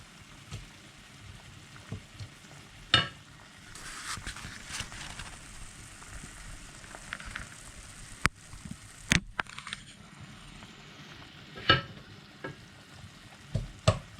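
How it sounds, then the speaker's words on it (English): Butter melting in a frying pan while pelmeni are being prepared, giving a soft, low sizzle with scattered sharp clicks and knocks of kitchen utensils. "While I'm waiting in the pan for the butter to melt."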